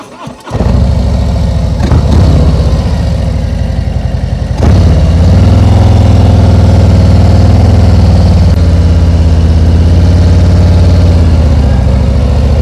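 A motorcycle engine runs loudly close by, starting and idling with a steady rumble, then rising into a stronger sustained rev as the clutch is held in the friction zone.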